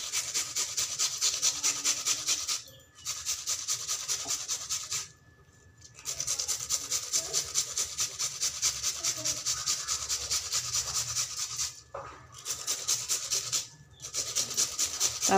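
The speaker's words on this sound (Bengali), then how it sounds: "দুটো পেঁয়াজ আমি এভাবে করে গ্রেটারের সাহায্যে ঘষে দিয়ে দিব।" Onions, two of them, rubbed against a kitchen grater in steady back-and-forth rasping strokes, close and continuous, with a few short pauses between passes.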